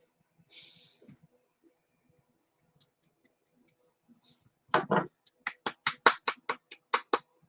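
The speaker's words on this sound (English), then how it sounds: "I clap. I clap." A single person clapping near the filament dryer and wash station, a quick run of about ten sharp, distinct claps in a loose rhythm after a mostly quiet stretch.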